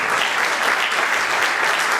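A brief stretch of steady, dense audience clapping at a book presentation in Rosario, many hands close together with no voices breaking through.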